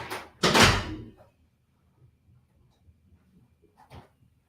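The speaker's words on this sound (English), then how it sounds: "I'm gonna shut this door." A door is pushed shut with one loud close thud near the start, followed by faint small knocks and rustles in an otherwise quiet room.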